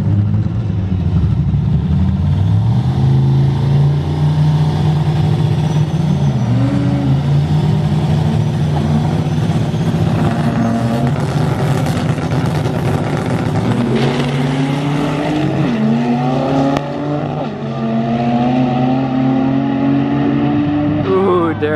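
Turbocharged Honda Civic and an LS-swapped turbo truck in a grudge drag race, engines loud and continuous with rising revs through gears, the rumble dipping briefly near the end before climbing again.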